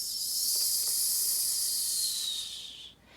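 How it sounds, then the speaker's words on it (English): A high, steady whistle from a kettle sounds continuously for nearly three seconds before cutting off abruptly, with a faint hiss underneath. "And the tea kettle whistled."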